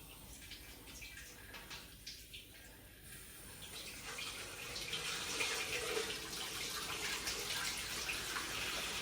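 Water runs steadily from a tap into a flow cup while an unvented hot water cylinder is being serviced, a continuous hiss that grows louder and fuller partway through as the flow increases.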